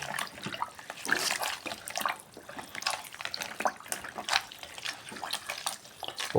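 Someone stirs a soaking liquid fertilizer mixture. The water sloshes and splashes softly in an irregular, continuous swirl, fairly faint and close by, with no voices.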